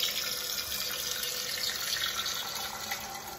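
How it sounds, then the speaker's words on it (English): Water runs steadily from a tap into a pan holding eggs for hard-boiling, a continuous rushing splash that stays even throughout, close and fairly loud, with no voices. "So let's get some water into this pan with these."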